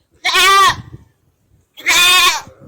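On a desert livestock farm in Saudi Arabia, a nearby goat gives two loud, quavering bleats about a second apart, with near silence between them.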